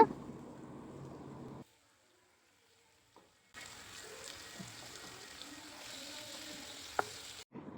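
Chicken goes into a pan of onion, tomato and ginger-garlic paste and fries with a soft, close sizzle. The sizzle stops for a couple of seconds, then returns brighter, with a few stirring clicks and no talk.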